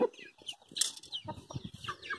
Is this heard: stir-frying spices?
no